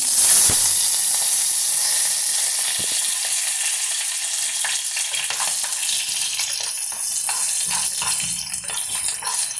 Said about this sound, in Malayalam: ഇനി ഞാൻ ഇതിലോട്ട് കുറച്ച് കറിവേപ്പിട്ട് കൊടുക്കുകയാണ്